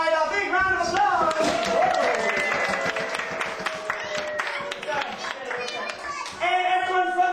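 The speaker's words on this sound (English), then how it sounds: "Let's give all of our fish from the south side a big round of applause." Applause and cheering from children and adults at a kids' birthday party, a dense burst of clapping mixed with excited young voices and crowd chatter, lasting about seven seconds with an adult talking over it.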